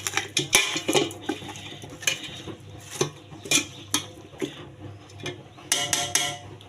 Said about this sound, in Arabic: غادي نحرك هادشي الثومه باش تدخل فيه